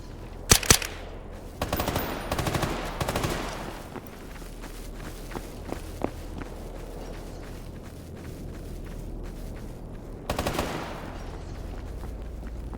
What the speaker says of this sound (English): I don't know where they're still shooting from.